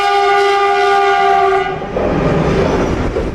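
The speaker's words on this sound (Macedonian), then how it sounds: "Овој товарен воз поминува пред куќата на Ленче Здравки." Freight train passing in front of a house: a loud sustained horn blast dominates the first half, then gives way to heavy rumbling and rattling of wagons rolling by close up, no voices.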